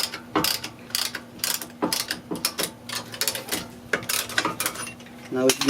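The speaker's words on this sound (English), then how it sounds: "This is one of the best tools for, you know, pressing caliper piston." A caliper piston press tool pushes back the brake caliper piston on a 2003 Acura EL during pad and rotor replacement, giving a close, rapid series of ratcheting clicks and mechanical clacks over a steady low hum.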